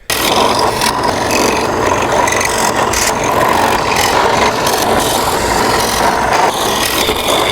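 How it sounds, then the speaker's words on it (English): A drill bores holes through a homemade pickleball paddle, giving a loud, steady grinding whine that runs unbroken for the whole stretch with no talking. "let's get all these little holes drilled first"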